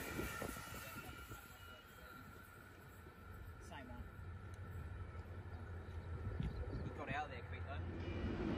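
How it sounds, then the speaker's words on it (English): The Endeavour train pulls into platform 2 at Menangle station, a faint, low rumble rising gradually beneath a distant announcement voice and outdoor background noise. "Endeavour arriving into platform number 2"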